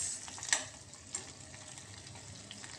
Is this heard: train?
no